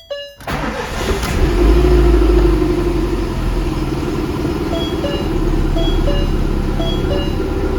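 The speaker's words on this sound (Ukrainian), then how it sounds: "машина працює" A Zhiguli car engine idles steadily and loudly up close after starting, a constant low rumble with a faint whining tone over it.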